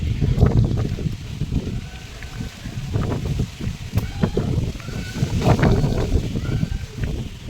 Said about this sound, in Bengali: দেখলে বাইরে কত সুন্দর হাওয়া দিচ্ছে, এই দেখো